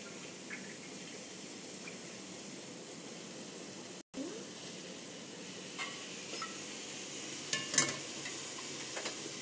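Peas being stirred in a frying pan while making veg pulao, with a soft, steady sizzle and faint scraping of the spoon under it, a few light clinks near the end.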